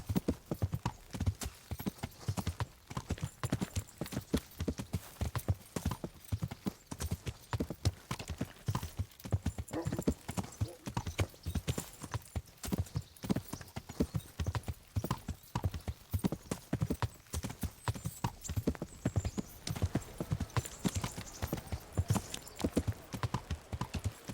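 Rapid, steady hoofbeats clop continuously on a hard surface in the video game Kingdom Come: Deliverance, with an occasional faint whinny woven into the rhythm.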